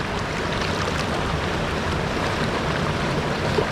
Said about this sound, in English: There is something nice and peaceful and tranquil about little waterfalls and little freshwater streams